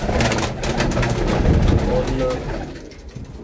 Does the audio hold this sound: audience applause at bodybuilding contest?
no